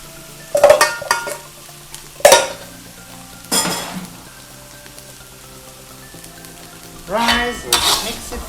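Rice being stirred and fried in a pan outdoors by a lake, loud bursts of sizzling and scraping spatula strokes in separate bouts with quieter simmering between, close up and with no talking.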